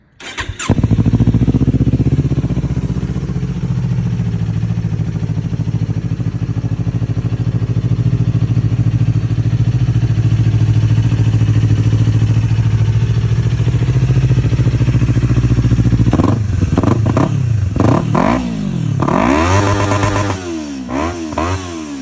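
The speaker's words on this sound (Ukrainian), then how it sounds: "Ось такий мій вихлоп" A motorcycle fitted with an aftermarket exhaust rumbles loudly at a steady idle, then revs in several sharp bursts toward the end, close and without talking.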